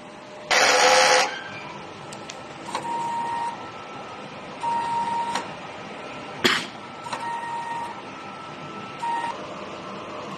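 A DTF printer whirs in short mechanical bursts during a head cleaning cycle: one loud, harsh buzz, then several quieter motor runs and clicks separated by pauses.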